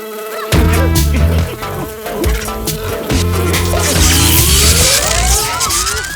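A cartoon fly in Chhota Bheem buzzes loudly and continuously, its drone wavering and finally sweeping upward in pitch over layered music.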